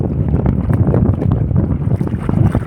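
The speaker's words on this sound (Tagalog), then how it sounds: "Narinig nyo hangin." Strong wind buffeting a small, fragile wooden boat at sea, heavy low rumbling gusts and microphone wind roar dominating throughout, with faint water sloshing underneath.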